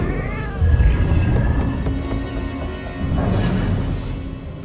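A cat in the video game Murdered: Soul Suspect, with a meow and caterwaul over a thick, rumbling background of ambient game sound, moderately loud and close.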